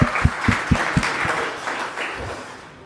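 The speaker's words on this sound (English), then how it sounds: "Round of applause for yourself." A small group at a car event claps briefly, a few loud, uneven claps up close fading into a softer patter over a couple of seconds.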